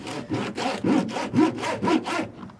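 A piece of paver rubbed back and forth on a rubber truck-bed mat, six rhythmic rasping strokes, close and loud, with no talking.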